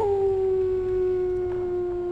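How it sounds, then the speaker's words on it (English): A dog's Dread Howl ability in the video game Dragon Age Origins sounds as a single sustained, steady howling tone that slowly falls slightly in pitch, loud and alone. "Dread Howl?"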